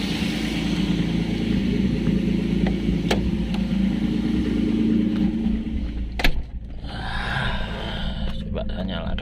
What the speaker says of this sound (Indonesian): ini mesin saya sudah nyala lagi dengan tanpa simulator ya